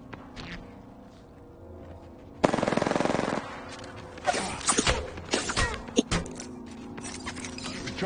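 Gunfire in Apex Legends, a sudden loud burst of rapid automatic fire followed by scattered closer shots, hits and clatter over a low game background.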